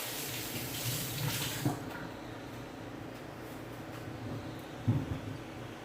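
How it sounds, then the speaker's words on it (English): Water runs from a kitchen tap as a hand is rinsed, a steady hissing stream that fades after a couple of seconds, broken by a few soft splashes and clunks. "I'm going to rinse my hand off."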